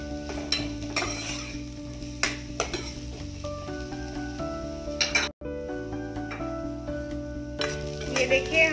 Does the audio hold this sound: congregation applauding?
no